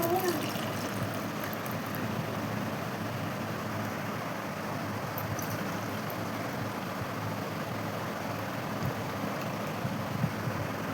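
Spiced dry ginger, black pepper and long pepper palm jaggery tea poured back and forth between vessels to cool, a steady continuous liquid rush and splash running throughout at close range.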